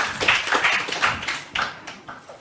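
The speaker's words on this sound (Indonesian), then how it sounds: "Tepuk tangan untuk mereka berempat." Audience at an Indonesian debate event claps and applauds, with a dense run of overlapping hand claps at moderate loudness that pulses and then thins toward the end.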